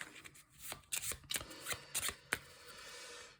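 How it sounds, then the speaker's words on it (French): A deck of cards for the board game Tiny Epic Defenders is shuffled by hand at close range, with quick riffling bursts and soft card slaps in an uneven rhythm over a quiet room. "ça repart dans le paquet qu'on va remélanger"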